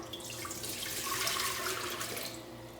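Water from a one-quart measure is poured into a countertop water distiller, in preparation for cleaning it with citric acid. The pour is a continuous close splashing rush lasting a few seconds.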